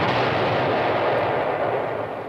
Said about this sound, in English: that's an explosion, dude. Like a cartoon type effect